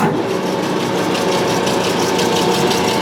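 An Oster revolving die head pipe threader runs at its 181 RPM high speed, giving a continuous loud, even machine drone with a steady mechanical whir, close and without talk.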